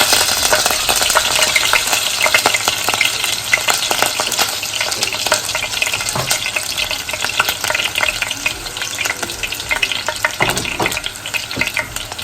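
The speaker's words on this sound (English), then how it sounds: "The palm oil is hot, so I will add onions." Onions sizzle steadily in hot palm oil for Nigerian egusi soup, with a dense, close frying hiss and occasional clinks and scrapes of stirring throughout.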